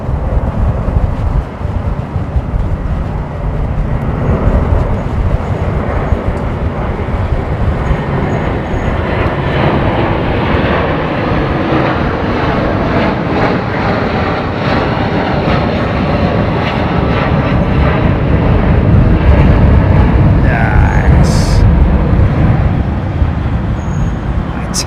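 Sustained loud jet engine roar of an Airbus A330 taking off at Heathrow, steady and broadband throughout, with faint talk underneath.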